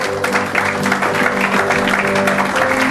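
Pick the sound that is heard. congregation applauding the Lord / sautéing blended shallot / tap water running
congregation applauding the Lord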